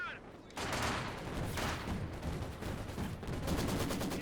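Three Soviet Maxim machine guns firing in a Company of Heroes 2 battle, a steady rattling stream of gunfire that runs throughout, with faint battlefield noise underneath.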